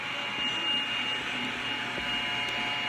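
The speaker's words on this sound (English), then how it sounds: "The blow dryer doesn't do anything." A blow dryer blows steadily on epoxy resin during mica powder work, a constant close whooshing airflow hum with a faint tone, running alone without pause.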